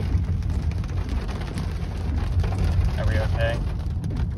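Heavy rain pours steadily through an intense thunderstorm during a flash flood on a road, a dense continuous hiss with low rumble beneath, while a person speaks briefly over it.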